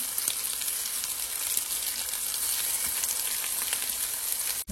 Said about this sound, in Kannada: ಇನ್ನೊಂದು ಸೈಡು ಅದೇ ಥರ ಫ್ರೈ ಆಗಲಿ.